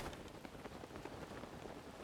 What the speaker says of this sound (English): Oh, good, it started raining.